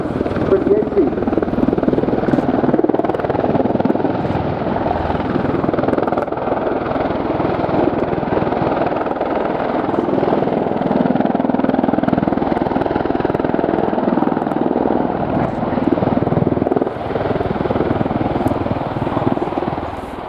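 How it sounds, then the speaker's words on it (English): A helicopter's small rotors spin at high RPM during an air show flypast, a continuous loud chopping roar that holds steady the whole time while a commentator talks over it. "Huge amount of lift from those very, very small rotors, mainly gained because of the high RPM that we see there"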